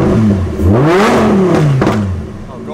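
A Porsche GT3 Cup race car's engine revs hard, loud and close, its pitch climbing and falling in a smooth sweep before a second quick blip, with a rough, mechanical rasp throughout.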